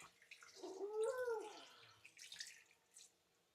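Water is poured into a pan of prawn masala while village-style prawn fry is being cooked, a faint gurgling trickle with a short rising splash, quiet and close with no speech.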